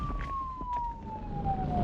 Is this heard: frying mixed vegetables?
no